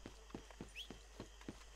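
Horse hooves in a video game, a faint steady clip-clop of evenly spaced footfalls at a walking pace.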